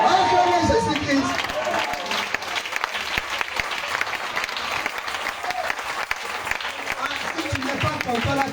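Church congregation at a French-language evangelism campaign service applauding loudly and steadily throughout, a dense continuous wash of clapping with some voices mixed in.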